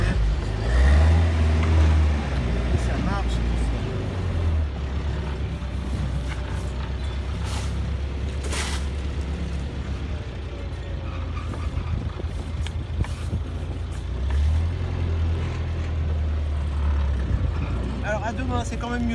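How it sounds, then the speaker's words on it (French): A 1952 Land Rover Minerva engine idles and pulls away in first gear, a steady low rumble with heavier surges, while someone talks over it. "il n'y a plus qu'à mettre la première"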